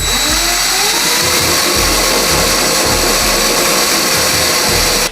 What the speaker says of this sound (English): lean that drill bit at a slight angle at the bottom of where we want to drill that hole